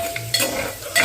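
Gongura leaves tempering in a hot pan: a brief burst of sizzling with quick stirring scrapes, close and moderately loud, lasting only about a second.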